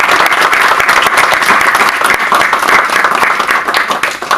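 Dense, sustained applause from an audience at a student event in Newark, steady and loud throughout with many hands clapping at once.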